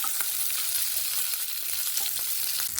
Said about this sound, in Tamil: இப்போ 3 காஷ்மீரி சில்லி, 6 காஞ்ச மிளகாங்க. கருகாமல் ஸ்லோ ஃப்ளேமில் வறுத்துக்கலாம்.